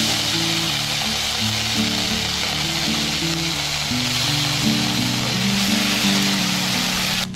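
Ginger paste hits hot oil already holding whole cumin, dried red chillies and bay leaves, giving a loud continuous sizzle and crackle with faint steady tones beneath.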